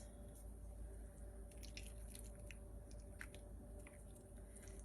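Enchilada sauce poured over a tray of frozen taquitos, giving a continuous wet, squishy drizzle with small splashes and drips, close and steady throughout.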